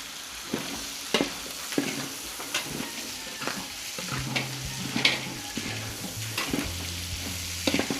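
About three handfuls of onion fry in a wok over a low flame for Filipino fiesta cooking. A constant close sizzle is punctuated by regular scraping stir strokes roughly every half second, with a faint low hum underneath.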